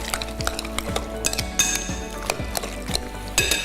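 Metal utensils clink and scrape rhythmically against a bowl while a tomato and pickled red onion salad is tossed, with repeated close, bright taps and no talking.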